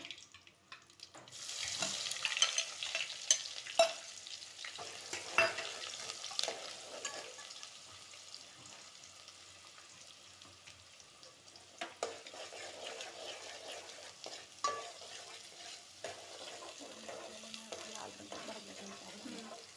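Onion fries with curry leaves in a pan for a village-style potato bhaji, a low, fairly quiet sizzle running throughout with intermittent scraping and clinking from a stirring spoon.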